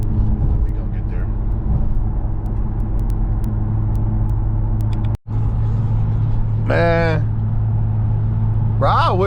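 Infiniti Q50 on the road, heard from the cabin as a steady low rumble of engine and tires throughout, with a brief dropout midway and short whistle-like sounds near the end.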